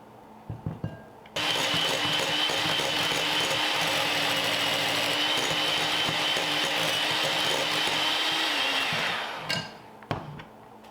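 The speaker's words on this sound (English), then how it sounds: "right when you start beating it, it gets stuck in the beaters" An electric hand mixer beats butter for a pumpkin roll, a loud steady whirring motor drone for about eight seconds, close up and alone, with brief clatter before and after.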